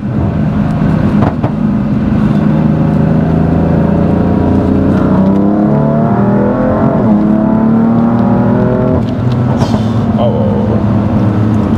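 A BMW M3 F80 Competition accelerates hard, its engine note rising steadily through the gears with a loud, continuous roar heard from inside the car, while people talk over it.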